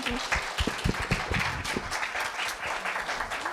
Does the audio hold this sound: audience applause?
yes